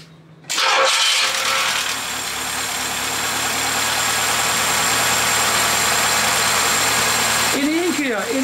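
A car engine cranks and fires at once, then settles into a steady loud idle after its ignition timing has been adjusted, the start abrupt after a quiet moment and the running held close up throughout.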